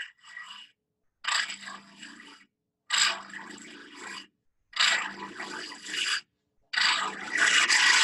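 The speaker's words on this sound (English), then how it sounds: "with scraping, all you're doing is starting on the center and moving out and removing wood" A woodturning scraper removes wood from a box blank spinning on a lathe, moving from center outward, in five separate raspy scraping passes of about a second each, with short pauses between them.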